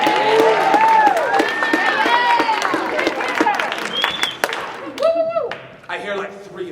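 A theatre audience at The Mystery of Edwin Drood claps and cheers in a dense burst that thins out after a few seconds. Voices and sung tones ring over the clapping, and sparse applause follows.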